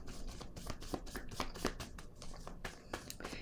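A deck of cards is shuffled for a card reading, with soft close riffling and flicking in quick repeated bursts at low volume and no talking.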